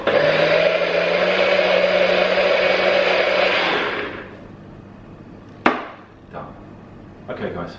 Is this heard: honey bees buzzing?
no